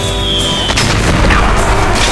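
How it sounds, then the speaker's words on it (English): Airstrike explosion in the video game Metal Gear Solid: The Twin Snakes, a loud close boom with sharp blasts over a continuous roaring rumble, no voices. "Oh no, an airstrike!"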